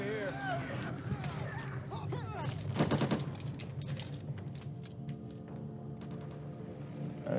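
Scattered gunshots and short bursts in Back 4 Blood zombie co-op gameplay, moderately quiet and mixed under frequent talking voices and game noise.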